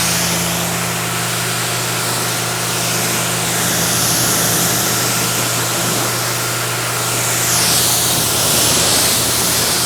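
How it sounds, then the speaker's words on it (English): A 2013 Ford Raptor truck gets rinsed down with a steady water spray in a dedicated wash bay, a constant broadband hiss running loud and unbroken for the whole stretch with a low motor hum beneath. "So normal procedure, just rinse the thing off"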